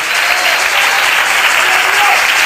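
A church congregation gives an offering of applause during a worship service, many hands clapping in a continuous dense roar, loud and sustained for the whole stretch.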